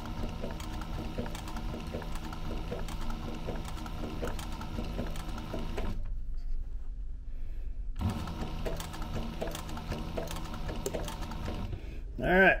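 A sewing machine stitches the ends onto a duffel bag in rapid, steady mechanical chatter, pauses for about two seconds, then resumes running until a brief clatter at the end.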